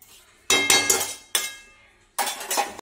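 A metal lid set onto a cooking pot on the stove, with three distinct clinking, clattering contacts spaced about a second apart, each ringing briefly before fading.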